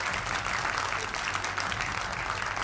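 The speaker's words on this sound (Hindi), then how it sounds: "बजाइए ताली इनके लिए" A studio audience on a televised political debate show claps briefly and faintly, a thin patter of applause sitting low under a background hum.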